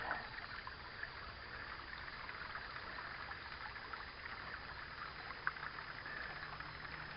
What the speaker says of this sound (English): I got a fairly good flow going through the top of the top sluice here